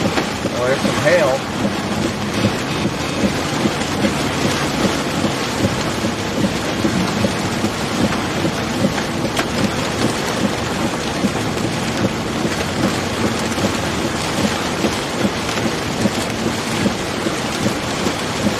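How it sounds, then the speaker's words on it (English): Hail and rain pour down steadily during a destructive Arkansas thunderstorm, a dense, continuous roar of pelting precipitation with low rumbling underneath, loud and close throughout. "Well, there's some hail."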